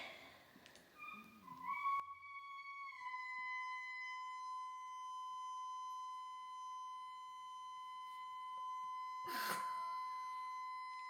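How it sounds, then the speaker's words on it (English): A hotel shower's hot water heater beeps with a steady, piercing electronic tone that holds for several seconds, preceded by brief rustling and followed by a short burst of running water near the end. "This is the sound of the shower."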